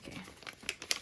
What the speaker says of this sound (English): I'm just gonna rip it